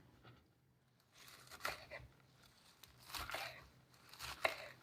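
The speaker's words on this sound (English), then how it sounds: "I'm just going to cut it up nice and fine, so when it's in the batter, you just get a nice peppery flavor." Knife chopping watercress finely on a board for fritter batter, a few irregular bursts of cutting strokes, fairly quiet and close, with no talking.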